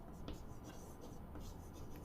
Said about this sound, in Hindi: तो मैं यहां पर आपके सामने तो इसकी डेफिनेशन लिख देता हूं।